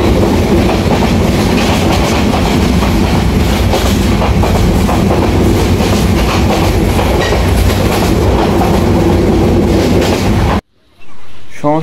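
A train rolls past close by, a loud continuous roar of wheels clattering on rails and carriages rumbling, filling the scene before cutting off abruptly near the end.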